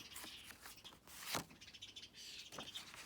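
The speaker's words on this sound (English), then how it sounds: "The birds are very busy today." Faint birds chirping and tweeting in quick scattered calls against a soft outdoor background, some a little closer than others.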